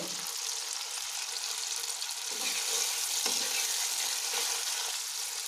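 Spice paste for a pomfret fish curry fries in a pan with a steady, close, hissing sizzle, broken by a couple of soft stirring scrapes, and no talk.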